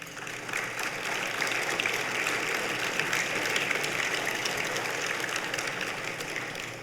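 Audience applause at a university athletics hall of fame induction ceremony, a sustained wash of many hands clapping in a hall, steady and fairly loud from start to finish.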